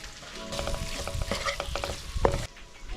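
Freshly caught South West crayfish dropped into a hot pan for pasta, with a strong close sizzle, clattering shell knocks and stirring, cutting off abruptly near the end, no talk.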